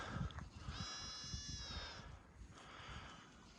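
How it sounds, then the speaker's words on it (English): A goat bleats once in a long wavering cry on a snowy winter farm, close and clear over a low outdoor rumble, with rustling livestock noise before and after. "Happy goats in the wintertime."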